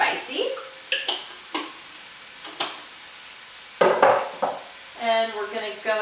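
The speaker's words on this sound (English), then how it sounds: "So stir that up nice. And we're just going to watch it for a few minutes and let those onions saute." A spoon scrapes and stirs onions sautéing in tomato sauce in a pan, a series of close scraping strokes over a soft sizzle, with a faint tonal clink near the end.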